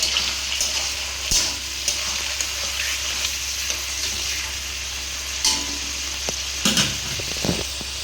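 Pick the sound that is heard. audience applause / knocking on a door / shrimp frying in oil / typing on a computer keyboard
shrimp frying in oil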